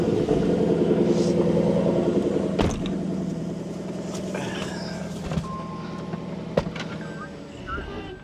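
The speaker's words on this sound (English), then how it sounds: "gonna turn on the car." A car engine runs steadily after starting, a continuous low hum under scattered clanks and clicks with some talk nearby, heard during home maintenance work.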